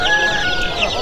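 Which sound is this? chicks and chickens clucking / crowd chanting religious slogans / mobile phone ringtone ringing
chicks and chickens clucking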